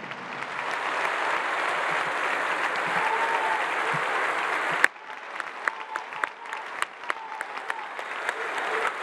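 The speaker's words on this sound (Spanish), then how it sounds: "¡Un aplauso!" Sustained applause from a large audience at a live interview event, a steady dense roar of clapping that cuts off sharply midway and gives way to sparse, scattered individual claps.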